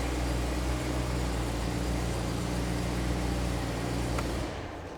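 BMW E93 M3 convertible V8 engine idling in stock trim, a steady, tight mechanical rumble with dense low harmonics, loud and close, cutting off abruptly near the end with no talking.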